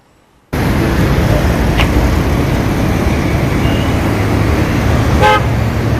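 Steady traffic rolling across the Atal Setu bridge, a dense roadway roar with brief horn toots cutting through near the start and again near the end, no talk.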